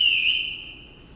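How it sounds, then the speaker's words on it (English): A single sharp whistle blast is blown as a signal to summon household staff in a stage production, a short, clear, high tone fading quickly in a quiet room. "Everyone in this house answers to a whistle."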